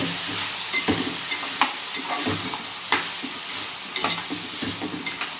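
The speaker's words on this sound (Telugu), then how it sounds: "ఇదిగోండి తగినంత ఉప్పు వేసి ఇంకోసారి కొంచెం కలిపి" Potato and dried fish curry is stirred in a hot pan after salt goes in: a soft sizzle beneath repeated spoon scrapes and knocks at irregular intervals, close by and moderately loud, without speech.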